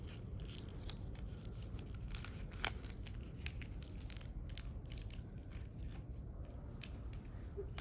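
Scissors snip through paper for a paper cockade in a series of quiet, close, crisp cuts spaced unevenly, with soft paper rustling between the snips.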